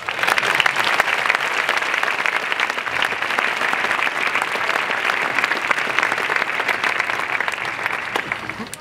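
Steady, dense applause from a large audience at an open-air classical concert, sustained evenly at full volume throughout.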